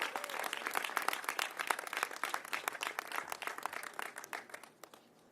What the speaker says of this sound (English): So let's give Mr. Lurie a big round of applause.